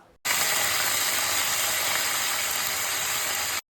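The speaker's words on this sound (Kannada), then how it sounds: "ಇದು ನೋಡಿ ಎಲ್ಲ ಚಟ್ಪಟ್ ಚಟ್ಪಟ್ ಅಂತ ಹಾಕ್ತಾ ಉಂಟು" Ginger garlic paste spluttering in hot oil for a tamarind rasam: a loud, dense, continuous crackle that starts abruptly, holds steady for about three seconds, then cuts off, with no talking.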